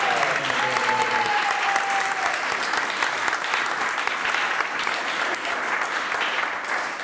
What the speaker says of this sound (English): have another round of applause for the My Life is Poetry